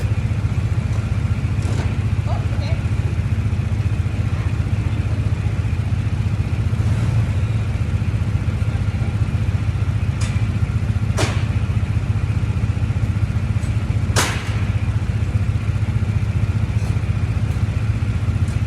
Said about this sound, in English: Here I struggle a little bit with the gearbox. Sometimes it gets stuck.